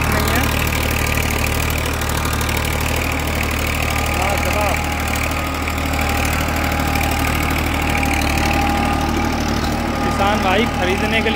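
A tractor engine pulling a KSD 8-foot, 60-blade rotavator runs at a steady, low, throbbing idle-like rumble, close and continuous, with a voice talking over it.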